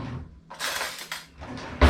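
A spoon stirs warm keto Thanksgiving stuffing in a dish, giving soft scraping and clinking strokes in short bursts with a louder knock at the end, close and without talk.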